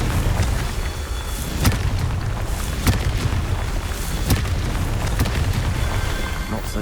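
Repeated booming blasts of the Confringo fire spell in the video game Hogwarts Legacy, four or five sharp loud explosions at irregular intervals over a constant roaring background.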